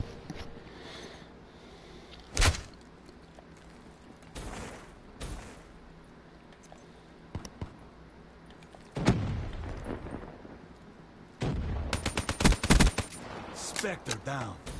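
Gunfire in the Black Ops 3 video game: scattered single shots early, then louder rapid automatic bursts near the end, set against a quiet background.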